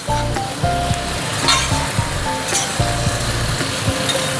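Hilsa fish heads are stirred in a sizzling pan, with a steady loud frying hiss and a spoon scraping and clinking in a regular rhythm.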